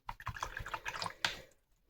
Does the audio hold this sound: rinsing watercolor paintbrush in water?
yes